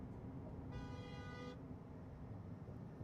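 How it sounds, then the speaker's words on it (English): A Mercedes car horn honks once from a short distance during a drive to Atlanta, a steady toot of just under a second over the low rumble of road and cabin noise. "No idea why the Mercedes driver was honking"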